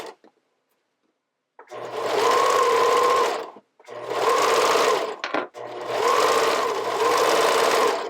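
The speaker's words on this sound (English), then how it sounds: "And just keep sewing until you get to the end of your elastic." A sewing machine stitches elastic onto the lace edge of a camisole, running in three long steady whirring bursts separated by short pauses, close and clear with no talk.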